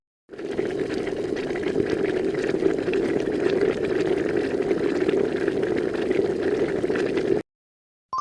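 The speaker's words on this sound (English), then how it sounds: "That's the sound of boiling water." Water at a rolling boil gives a steady, dense bubbling roar for about seven seconds, close and even in loudness, then stops abruptly.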